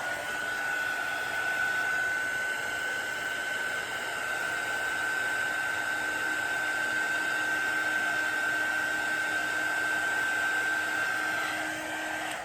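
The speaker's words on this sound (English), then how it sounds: "so the heat gun not only pops bubbles, but it moves the resin around" A heat gun blows steadily over poured resin on an emerald green coaster, popping bubbles in a continuous, even hiss with a faint high whine, close and alone for the whole stretch.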